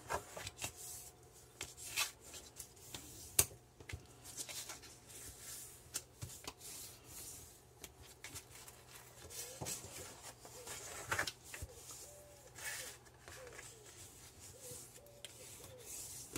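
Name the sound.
creasing folds into paper pieces for a mini album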